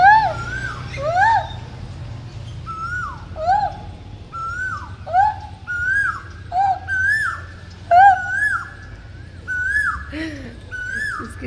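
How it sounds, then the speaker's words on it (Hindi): An Asian koel calls again and again, its clear rising whistled notes repeating in loose bursts over a quiet background, some calls overlapping and growing louder toward the middle. "इस कोयल की आवाज़ इतनी अच्छी लगती है।"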